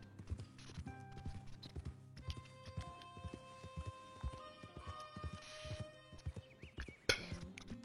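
Hooves of a ridden horse in a video game clop in a steady trotting rhythm, close and distinct, over faint sustained background tones.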